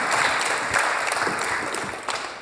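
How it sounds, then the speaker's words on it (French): A crowd at a startup contest final applauds with dense, steady clapping that holds for the whole stretch before fading slightly at the end. "On peut l'applaudir très fort."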